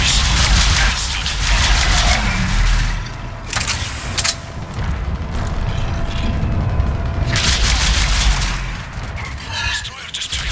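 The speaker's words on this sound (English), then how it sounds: "Firing remaining missiles." Phalanx missiles launching and exploding in the video game Mass Effect 3, heard as loud booming blasts and rumbling bursts over a constant roar, with sharp cracks near the start and end and radio voices mixed in.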